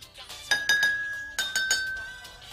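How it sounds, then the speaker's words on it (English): Bright clinks as a spoon taps a glass a handful of times, each strike leaving a clear sustained ring, close up. "Use a spoon to tap each glass and compare the pitches."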